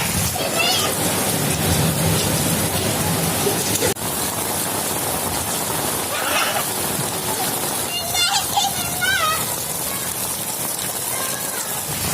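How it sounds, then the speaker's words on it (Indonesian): Rain pours steadily on an outdoor surface while children bathe and play in it, their excited shouts and chatter rising over the constant patter and splashing. "Enak banget ya, Zam, mandi hujannya."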